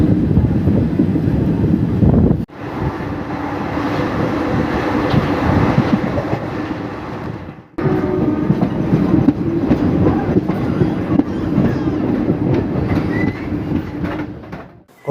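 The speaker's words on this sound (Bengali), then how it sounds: "অবশেষে কিন্তু কলকাতা থেকে প্রায় 583 কিলোমিটার পথ অতিক্রম করে আমাদের ট্রেন কিন্তু এসে পৌঁছালো আমাদের যাত্রাপথের 7ম স্টেশন কিষানগঞ্জে" The Haldibari Superfast Express runs on the rails toward Kishanganj with a loud, steady rumble and clickety-clack, briefly dropping out twice before resuming.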